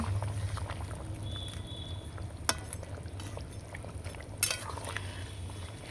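Pomfret fish, fried cauliflower and boiled potato are stirred together in a pan: a quiet, continuous shuffling with a soft background hiss, broken by two sharp spoon clinks against the metal.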